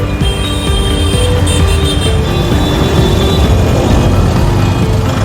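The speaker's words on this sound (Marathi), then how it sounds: "किती हेवी ट्रॅफिक आहे पहा कॉर्नरला" Heavy road traffic at a busy street corner produces a dense, steady roar of engines and tyres, loud and close throughout with no pauses.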